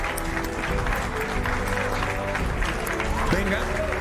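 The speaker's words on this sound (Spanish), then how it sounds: "Fuerte aplauso, hermano." A crowd claps and cheers in a dense, continuous patter of applause, with voices talking loudly over it throughout.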